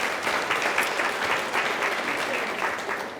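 Guests at a chamber of commerce breakfast give a round of applause, a moderate, even patter of many hands clapping for a few seconds at some distance, then tapering off.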